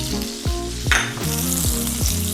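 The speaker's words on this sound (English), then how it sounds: "now we gotta get a pan nice and hot. We're gonna heat our butter and olive oil." Butter and olive oil sizzle in a hot pan, a steady loud frying hiss with a brief burst of louder crackle partway through and low tonal hum underneath.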